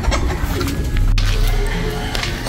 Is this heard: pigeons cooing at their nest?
yes